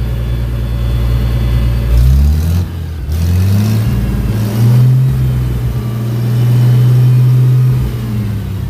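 Farmall 756 gas tractor engine running steadily on a cold day, a loud close mid-pitched drone that rises and falls as the throttle is revved, with no talk over it.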